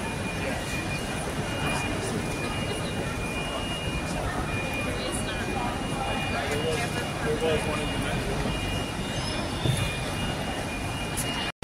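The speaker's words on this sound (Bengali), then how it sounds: "দেখতে পাচ্ছ এটা হলো প্যাডিংটন স্টেশন, প্যাডিংটন।" Paddington railway station in London, a busy platform with trains, fills the space with a continuous rumble and hum of idling and moving rolling stock, distant clatter and faint squeals, and voices talking nearby.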